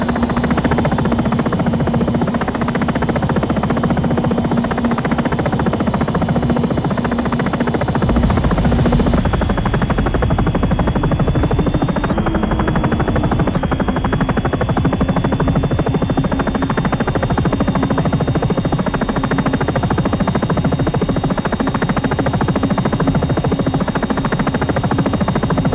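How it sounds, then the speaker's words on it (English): Helicopter flying in the X-Plane 11 flight simulator, a steady loud turbine whine and rotor drone that holds continuously with slight shifts in pitch partway through. "We're pulling a Captain Sully with a helicopter"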